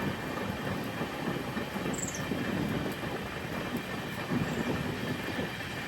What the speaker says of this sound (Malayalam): അപ്പോൾ ഇതാ ഇവിടുന്ന് ട്രെയിൻ എടുക്കുകയാണ്